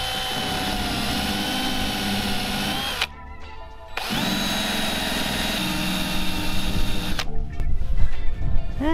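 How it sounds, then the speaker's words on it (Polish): A power drill whirs steadily with a cleaning disc removing glue in a camper van, pausing briefly twice before spinning up again, the pitch shifting as it bites into the surface. "Założę go na wiertarkę, na wiertarkę."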